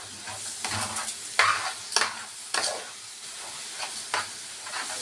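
Butter and spices sizzle and fry in a pan for stuffed vegetable (mahshi) filling, with repeated spoon-stirring scrapes every half second or so, close and steady, with no talk.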